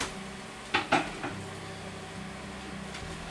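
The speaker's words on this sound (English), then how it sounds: "I'm just going to change out the chopping board." Kitchen chopping board being swapped out during cooking prep: a few sharp knocks and clatters of the board set down over a quiet background hum, no talking.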